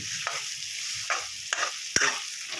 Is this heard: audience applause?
no